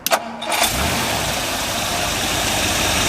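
A 1957 Ford Thunderbird with a rebuilt engine cranks briefly and catches, then settles into a steady, smooth idle heard up close with no talking.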